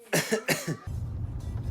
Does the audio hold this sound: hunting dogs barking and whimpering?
no